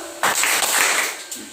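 A church congregation at a Filipino worship service claps in unison, a brisk burst of hands striking together close by that rises sharply, holds briefly, then tapers with a smaller trailing clap.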